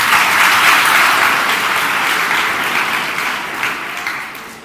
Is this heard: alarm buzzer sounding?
no